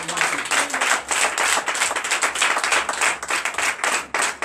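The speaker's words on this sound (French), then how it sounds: "Donnez l'acclamation à Christ." A church congregation claps together during a Sunday worship service, dense rhythmic hand claps filling the space loudly and steadily with no talk over them.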